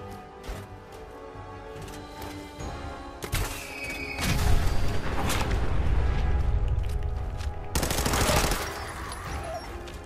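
Fallout 4 Nuka-World combat, quieter scattered shots at first, then dense loud bursts of automatic fire and crashing impacts surging in the middle and again near the end.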